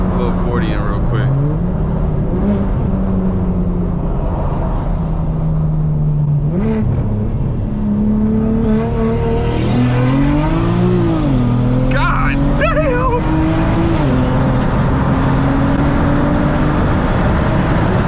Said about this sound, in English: Car just gets up in speed so easily. Get a little 40 in real quick.